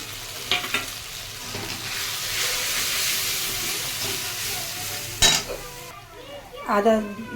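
Ginger garlic paste and whole spices frying in hot oil in a pan make a steady, loud sizzle and hiss, broken by a few metallic clinks of a spoon and pot, with a voice speaking near the end.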